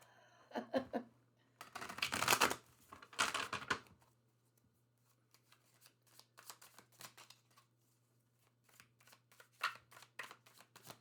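Riffling card shuffles, a quick burst then two loud cascades, followed by softer repeated snaps and taps of cards being handled, close by.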